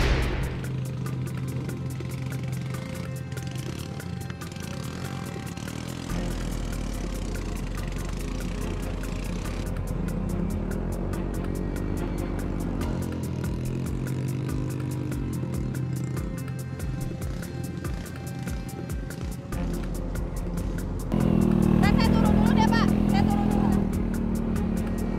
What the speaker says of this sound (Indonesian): Tanjakan yang curam membuat motor berat untuk melaju.